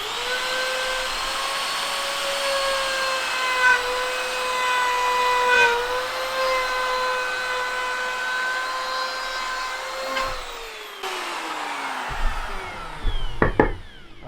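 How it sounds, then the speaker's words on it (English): A router with a 6 mm bit cuts a groove 5–6 mm deep in wood, giving a steady, close, high-pitched motor whine. The whine winds down near the end, followed by a few clunks. "just to hold that wood as I router it"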